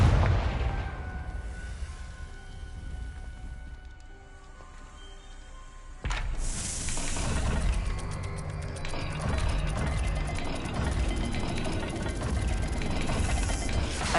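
A rotating puzzle dial from Hogwarts Legacy, giving steady mechanical ratcheting clicks that jump louder partway through and keep grinding on.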